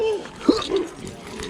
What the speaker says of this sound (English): Oh no, I'm getting barked at already.